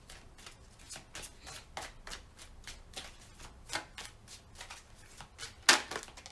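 Arcanum Tarot cards are shuffled by hand close up in a quick run of soft, papery riffles and flicks, ending in one sharper snap, with no talking.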